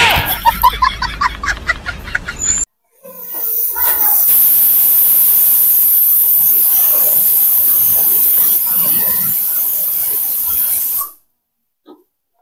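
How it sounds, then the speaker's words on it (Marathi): A pressure cooker whistling in a kitchen, a loud, sustained hissing whistle lasting several seconds after a few short voiced sounds, then cutting off abruptly. "ते कुकर शिट्टा टाकून मारू राहिलो"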